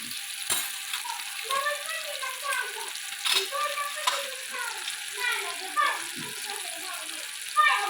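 Cumin, mustard seeds and turmeric sizzling in hot oil for a tomato amti, a steady crackling fry with scattered pops and a few louder spits, heard up close under continuous background noise.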